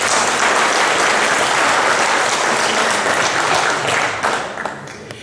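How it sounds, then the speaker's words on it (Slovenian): An audience at a diabetes society's annual general meeting applauds the new leadership with loud, dense clapping that holds steady and then tapers off near the end. "En aplavz za novo vodstvo."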